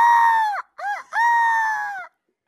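A human voice imitates a bald eagle's cry in two loud, shrill, wavering screeches with a brief broken chirp between them, heard alone.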